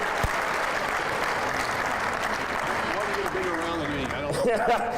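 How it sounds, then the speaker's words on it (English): An audience claps and cheers together at an outdoor city dedication ceremony, a dense, fairly steady wash of applause that swells slightly at the end. "He got a bigger applause than the mayor."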